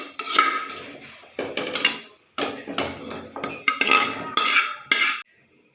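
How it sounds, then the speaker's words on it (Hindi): Edible gum (gond) is stirred and roasted in a pan, with bursts of metallic scraping and clinking from a spoon against the pan, coming in separate strokes with short pauses between them. "इसको भी मैं इसे भूनने लगी हूँ।"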